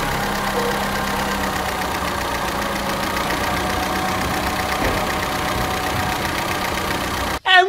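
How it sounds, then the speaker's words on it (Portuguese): A freshly assembled Chevrolet Corsa Classic engine runs steadily at idle, a close, even mechanical hum with slight knocking texture, ending in a brief clatter. "se é vídeo de motor, nós temos que ouvir a melodia do motor"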